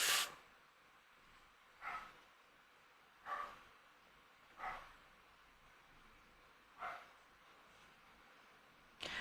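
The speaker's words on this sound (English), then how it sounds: "Sorry about any asshole dogs you hear." Dogs bark in the background, a few short isolated barks spaced about one to two seconds apart, faint and distant, with no talking.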